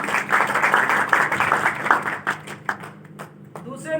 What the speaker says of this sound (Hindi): तालियां बजा दें उनके लिए।